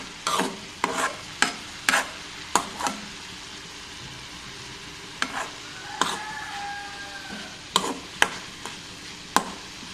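Onion thoran with grated coconut being stirred in a pan, a spoon scraping and knocking in a dozen sharp, irregular strokes over a quiet background with a faint sizzle between them.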